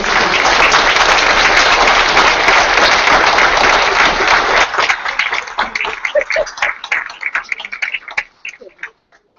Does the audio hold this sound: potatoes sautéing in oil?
no